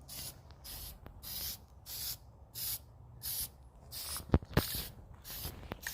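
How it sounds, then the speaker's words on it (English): White frost spray paint hisses from an aerosol can onto rope lights in short repeated bursts with quiet gaps between them, close by, with a couple of sharp knocks near the end. "So now are we going to be spray painting the rope lights."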